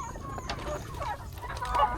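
Free-range chickens on a farm clucking softly in scattered calls, with a brief louder squawk near the end, steady low background noise underneath.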